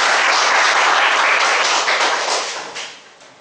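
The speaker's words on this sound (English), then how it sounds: "Let's have a big round of applause." Audience applause at a speakers' forum meeting, a dense steady wash of many clapping hands that holds strong, then thins and fades toward the end.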